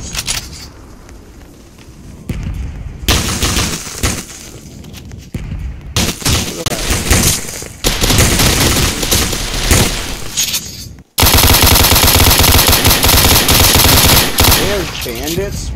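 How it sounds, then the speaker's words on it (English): Rapid gunfire in a Roblox shooting game, Warzone-style mode, with bursts of automatic fire and shots stacking loud and dense, nearly continuous, with a sharp cutoff then an even louder stretch of shooting. "So they're shooting at me"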